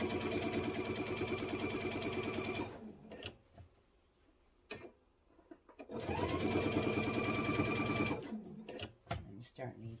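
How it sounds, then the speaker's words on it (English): A sewing machine stitching a side seam on a hidden zipper pillow, a steady fast mechanical whir that runs, stops for a pause, then runs again, close and loud, with a person speaking briefly in the gap. "I'm going to go ahead and sew this side"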